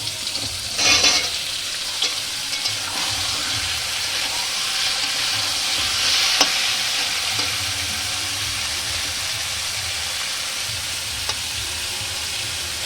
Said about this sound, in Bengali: এরপরে এই গাজরগুলো দিয়ে দেবো